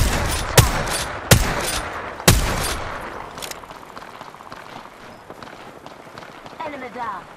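Three sharp, loud gunshots from a video game ring out about a second apart, each with a fading tail, followed by quieter movement and game sounds.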